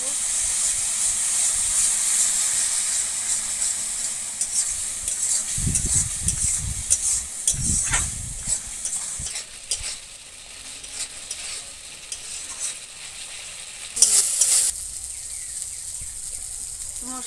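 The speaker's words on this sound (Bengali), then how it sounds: "এবার ভালো করে মশলাটা কষিয়ে নেব" Masala paste of ground cumin and coriander frying in oil in a pan while being stirred for a fish and potato curry, with hissing sizzle, scraping stir strokes and a sharp steam burst late, close, under occasional voice.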